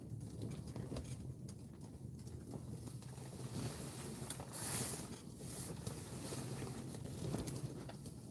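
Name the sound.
wind blowing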